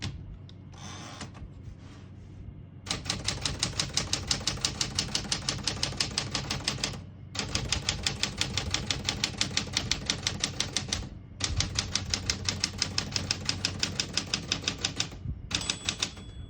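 Fast, even keystrokes clatter on a 1964 Smith-Corona Galaxie manual portable typewriter in long runs, broken by brief pauses, each strike crisp and close.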